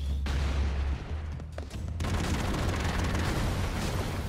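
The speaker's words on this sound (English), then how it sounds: "Explosions." Loud, dense rumbling blasts and booming fire from Broforce game explosions roll on continuously, with a brief dip before the roar resumes.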